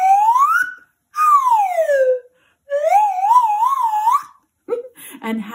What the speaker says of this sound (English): I love the metal slide whistle for me as the teacher